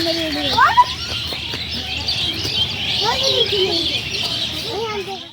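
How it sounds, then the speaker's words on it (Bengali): Many birds chirping and tweeting in tree branches nearby in a village, overlapping short calls over a busy outdoor hum, with a voice talking briefly. "এই যে ডালগুলোতে অনেক পাখি বসে আছে"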